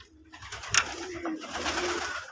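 Red pigeon squabs coo softly close by, a short cooing call over a quiet room background with faint shuffling.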